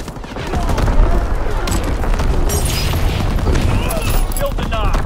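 Artillery barrage explosions in Call of Duty WWII, a loud, continuous rumbling wall of booms and blasts that runs unbroken from start to finish, with crackling bursts layered on top.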